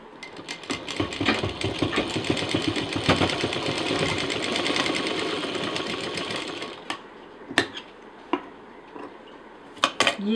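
A sewing machine stitches a seam on a fabric sling bag in a fast continuous run, then stops, followed by a few sharp clicks and handling knocks.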